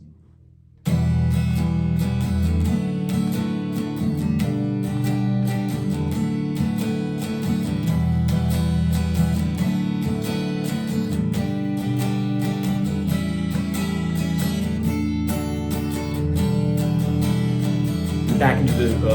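Electric or acoustic guitar plays the bridge section of a song, a steady strummed chord passage that runs loud and continuous for about eighteen seconds after a brief quiet start, with no voice over it.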